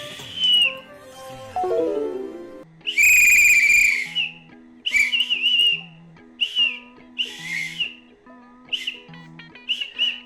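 A shrill whistle blown in a video game sounds in several loud, high bursts, one long blast near the middle and shorter toots after it, over layered game music with bell-like melodic tones.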